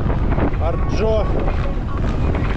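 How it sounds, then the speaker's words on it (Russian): Steady wind buffets the microphone on a breezy May day near Feodosia in Crimea, a constant low roar running the whole time while a voice speaks briefly over it. "Ветрено"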